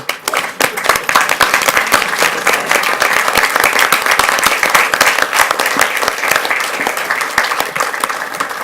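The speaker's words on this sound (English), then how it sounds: "let us give you a round of applause" Sustained applause from a large crowd at a school board meeting, dense steady clapping that fills the whole stretch without pause.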